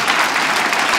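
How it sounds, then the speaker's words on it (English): A comedy club audience bursts into brief, dense clapping, loud and continuous for about a second. "Clap if you have children"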